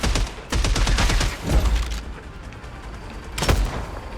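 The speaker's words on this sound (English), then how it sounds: "this AoE explosion on reload, I swear to God, has done nothing but spook me for the entire game" Video game gunfire with area-of-effect explosions set off on reload, dense rapid blasts and booming thuds over a noisy combat bed, loud and close, with a sharp burst near the end.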